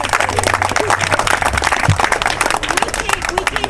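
A crowd claps and cheers outdoors at an Occupy Santa Rosa gathering, dense, close applause running the whole time with voices mixed in.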